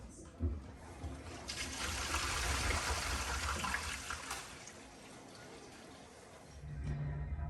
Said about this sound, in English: we can see when we flush, some water drips out